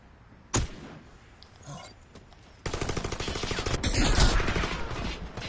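Gunfire and a flashbang in the tactical shooter Warface: Breakout: a sharp early bang, then scattered shots, then a loud, dense burst of sustained automatic fire with blasts, close and continuous.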